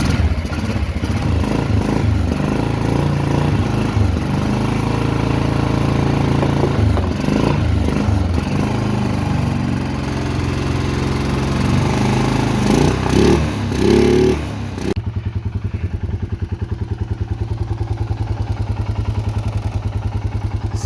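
A farm equipment engine clatters and revs unevenly for several seconds, then drops into a steady, rhythmic idle that chugs on alone.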